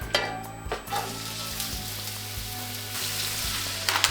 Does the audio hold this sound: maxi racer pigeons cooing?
no